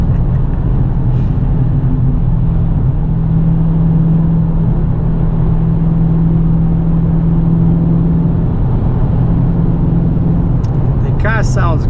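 A 2018 Dodge Challenger with a 6.4 L engine and Flowmaster Super 44 exhaust drones steadily from inside the car at cruising speed, a loud continuous low rumble with no talking.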